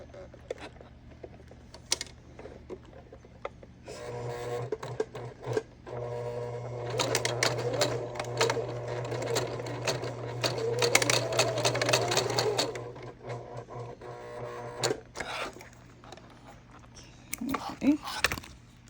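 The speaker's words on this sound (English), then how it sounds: "We're going to sew from our previous stitching to the edge." A sewing machine stitches a bag seam from the earlier stitching out to the edge, with quick bursts at first, then a steady whirring run of several seconds and a few short stitches near the end, while a voice talks quietly around it.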